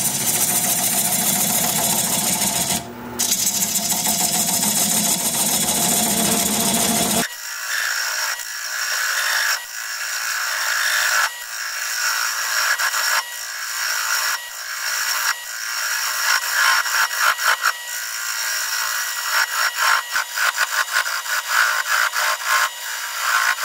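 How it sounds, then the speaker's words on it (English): A wood lathe turns a root ball at about 430 rpm while a half-inch bowl gouge cuts it, giving a loud, continuous rough scraping with rhythmic bumps from the uneven wood and no voices. "I'm going to use a half-inch bowl gouge and commence to removing that tenon."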